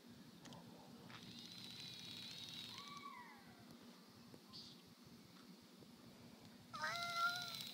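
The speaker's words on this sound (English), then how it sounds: "It's a cute little kitty." A cat meows a few times, soft and close, with a longer drawn-out meow near the end over a low steady background hum.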